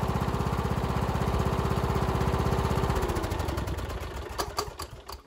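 A lawn mower engine, its loose engine bolts tightened and locked down, runs in a steady, even rapid chug, then is shut off and winds down with a few rattles and clicks as it stops.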